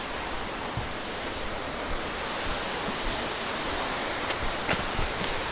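The lower cascade of Forth Falls near Wilmot, Tasmania, pours in a constant broadband rush of falling water, steady and enveloping with only faint occasional knocks and rustles beneath it.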